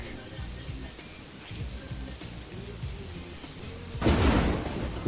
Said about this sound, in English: I think it is raining a little too much